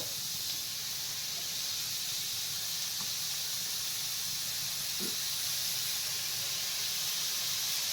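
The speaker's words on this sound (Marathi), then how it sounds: "त्यानंतर आपण आता मशरूम टाकूया" Mushrooms cooking in a pot for a protein soup with paneer give a steady soft sizzling hiss, constant and moderately quiet, with no talk over it.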